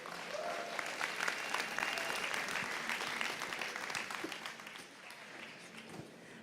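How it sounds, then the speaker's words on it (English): An indoor audience at a farm show startup pitch event claps in sustained applause that holds steady, then tapers slightly toward the end. "let's give it one more big round of applause"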